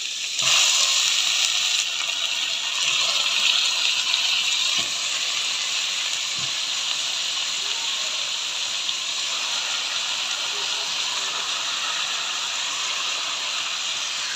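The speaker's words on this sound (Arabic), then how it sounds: "هنا سمنه برضو كالعاده، وهنزل بالفراخ" Pieces of chicken dropped into hot ghee in a pan for a stew with okra, bursting into a loud steady hiss of sizzling that settles into a continuous frying rush, with a few faint clinks.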